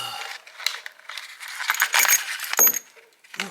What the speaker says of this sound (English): it makes a lot of jingly noises